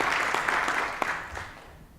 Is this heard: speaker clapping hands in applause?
yes